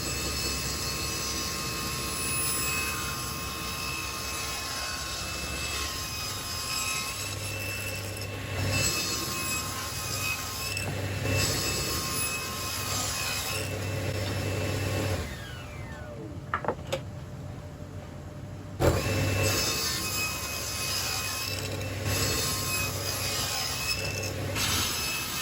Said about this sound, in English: remove the bullnose edge on the table saw